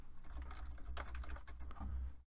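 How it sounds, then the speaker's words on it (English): Quick keystrokes on a computer keyboard tap out a short burst of typing, close and clear over a low background hum, ending abruptly. "We begin by pressing the Windows key and typing in settings."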